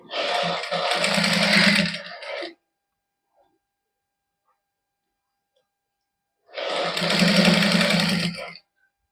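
An electric sewing machine stitches a seam on a garment sleeve in two loud, close, steady runs of about two seconds each, separated by several seconds of near silence.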